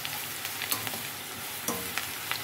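Onions frying in a pan for a chicken curry, a steady close sizzle with scattered scraping stirs and clinks of a spoon against the pan, no voices.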